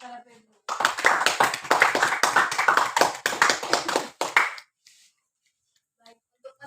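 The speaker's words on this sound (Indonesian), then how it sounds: "Berikan tepuk tangan kepada Febru." A short burst of classroom applause for a student, a few hands clapping briskly and close for about four seconds, then stopping abruptly into near silence with a few faint taps.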